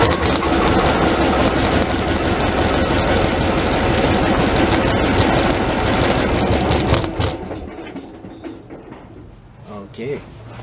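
A John Deere 145 lawn tractor engine runs loud and steady at close range, then cuts out after about seven seconds, leaving quieter scattered mechanical sounds.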